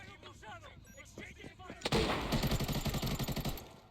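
A grenade blast followed by bursts of gunfire in a tactical shooter game: a sharp loud boom, then rapid repeated shots with a heavy rumble. Quieter game sounds and voices come before it.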